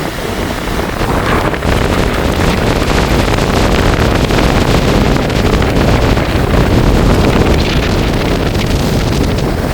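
Strong storm winds batter the microphone on a coastline in Jaffna during a red-alert cyclone, with a constant loud roar of gusts and crashing waves and no break throughout.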